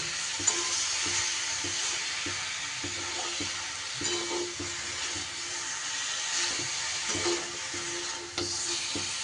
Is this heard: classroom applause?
no